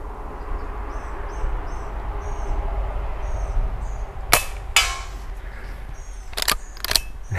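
A Henry Frontier lever-action rifle fires low-powered Colibri ammunition outdoors, giving a few sharp cracks and metallic clacks in two close pairs, while birds chirp steadily in the background.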